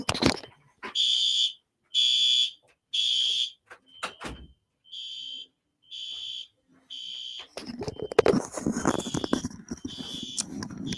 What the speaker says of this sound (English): tell us if you can actually hear us or if it's just being overpowered by the alarm